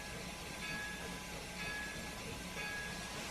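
Steam locomotive running steadily with its cylinder cocks opened as it approaches a station, a continuous loud broadband hiss and rumble with a faint high whistle tone throughout.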